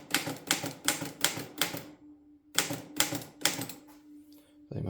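A Mercedes 8 manual typewriter typing, with a run of loud, evenly spaced key strikes, a brief pause, then another burst of clacks ending in a carriage sound, close and alone.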